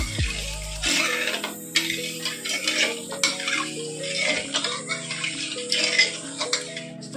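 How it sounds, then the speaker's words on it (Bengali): Milk with a spoon of agar agar powder stirred steadily in a pot over a medium gas flame, with a continuous scraping and clinking of utensil against metal running throughout, fairly close and without talk. "অনবরত নাড়তে হবে"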